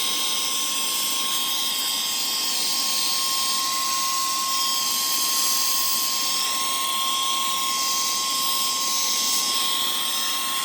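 A VOGMA Vmonster electric compressed air duster, a 100000 RPM three-speed blower fitted with a narrow nozzle, whines at a high pitch with a loud, steady rushing blast that never lets up.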